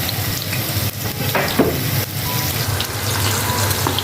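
Onions frying in oil with cinnamon, cloves and cardamom for chicken biryani, a loud, continuous crackling sizzle with a brief scrape, close and steady.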